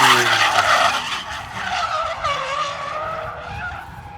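Cars sliding around a hot race track at a drift-style track day, with long, loud tire squeals and skidding over the hum of engines, continuous and fairly near.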